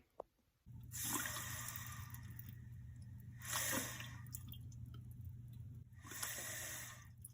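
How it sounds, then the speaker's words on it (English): Continuous hissing, trickling water from a leaking toilet fill valve, with a steady low hum underneath, swelling louder in three broad surges before easing back. "That's the sound of your fill valve leaking."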